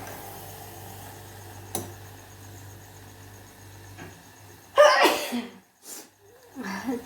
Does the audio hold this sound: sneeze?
yes